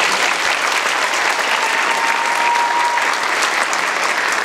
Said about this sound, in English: Give them a round of applause as well, please.